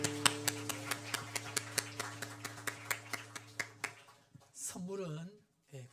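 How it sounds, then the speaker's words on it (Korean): Church congregation clapping in thanks during Sunday worship, heard as a steady rhythmic run of claps over a sustained musical tone for about four seconds, then stopping as a voice speaks. "박수로 우리 감사 표시하겠습니다"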